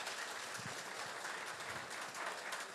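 An audience at a business talk claps loudly, a thick continuous patter of many hands that runs evenly from start to finish with no one speaking.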